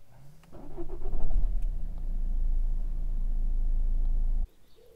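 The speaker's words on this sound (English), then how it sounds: "we'll just keep grinding it over and see if it comes back" Vauxhall Corsa D 1.3 CDTi diesel engine with an intermittent non-start fault, cranking over with a steady rhythmic churn for about four seconds close by, then cutting off abruptly without catching.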